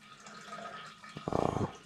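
Water drains from a 1997 gas water heater tank blown out at the bottom: faint background, then a sudden close gush and splash of water in the last moments.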